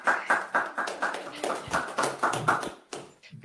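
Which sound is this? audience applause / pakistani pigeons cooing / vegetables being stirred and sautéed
audience applause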